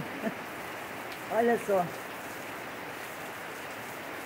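Heavy rain falls on plants in a steady, hissing downpour, with someone briefly speaking over it.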